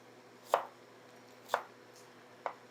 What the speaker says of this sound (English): I'm just going to run my knife through it.